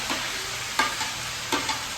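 Tadka for dal, with spices sizzling in hot oil, as a loud continuous close frying hiss broken by a few sharp stirring scrapes.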